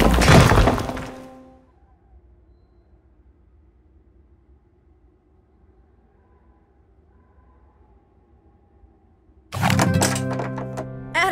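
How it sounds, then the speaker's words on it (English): An explosion blasts through a bedroom wall in the video game Dracula 4: The Shadow of the Dragon: a loud crashing burst that rings down into near silence, then a second heavy crash of noise near the end. "I heard an explosion!"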